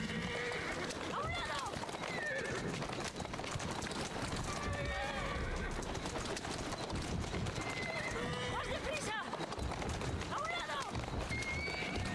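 A horse in the Assassin's Creed Syndicate video game, with steady clip-clopping hooves and several neighs and whinnies over a continuous bed of game noise, while someone talks throughout.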